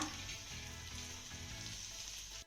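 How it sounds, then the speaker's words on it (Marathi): Guar beans sautéing in oil with peanut powder in a pan, a steady close sizzle and crackle of frying that holds evenly throughout without any talk. "आता हे सर्व साहित्य आपल्याला पुन्हा दोन ते तीन मिनिटं चांगलं परतून घ्यायचं आहे"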